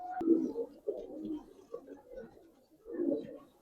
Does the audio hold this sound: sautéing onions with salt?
no